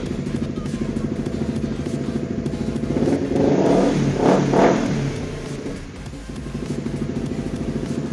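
A sport motorcycle engine, a Ninja or CBR R15 with about 28,000 km, idles with a steady mechanical chatter, then revs up in a couple of rising bursts before settling back to idle.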